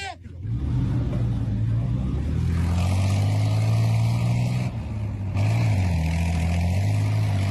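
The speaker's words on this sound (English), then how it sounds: "They're putting everything they can, juice-wise, into the engine to get that vehicle on out of there" A BMP armored vehicle's engine roars and revs steadily up close in a war zone, a loud throbbing rumble rising and falling in pitch throughout.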